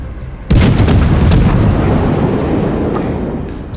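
Naval guns fire in World of Warships. A sudden, very loud salvo hits and then rolls on as a sustained, booming rumble that slowly fades.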